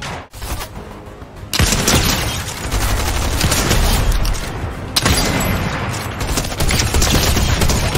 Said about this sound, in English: I was trying to shoot at the IO guard.